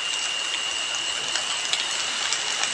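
Steady rain falling at night, a continuous even hiss with a few faint droplet taps, fairly close and alone with no voices.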